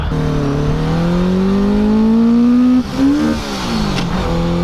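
A Honda Gold Wing motorcycle engine revs hard toward redline, a loud rising whine that climbs steadily, drops briefly, then surges and falls again, close and dominant with no talk.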